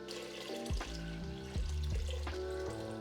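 Water runs from a tap into a pressure cooker holding kombu, a steady close splashing fill whose pitch shifts as the pot fills, with no talking.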